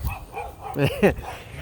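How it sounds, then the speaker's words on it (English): A couple of dogs bark in quick succession nearby, short sharp yaps over faint background noise. "Sorry about the dogs."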